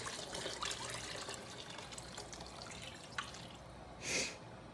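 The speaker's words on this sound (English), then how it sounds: "we're going to add our 32 ounces or 4 cups of beef stock." Beef stock poured from a carton into a pot of simmering taco nacho southwest soup, a steady liquid stream and light dripping in a kitchen, with a brief splash near the end.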